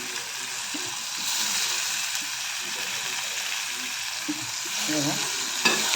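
Tomatoes frying in a pan while cooking a spicy red masala tomato chutney, a steady soft sizzle running the whole time with a few faint clinks of stirring near the end.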